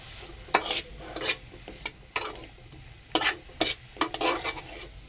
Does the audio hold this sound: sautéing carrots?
yes